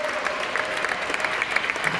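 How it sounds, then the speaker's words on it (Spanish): Audience applause after a song at a Hispanic Heritage Month event inside the New York Hall of Science, a brief, dense burst of close clapping from a crowd. "Fuerte aplauso."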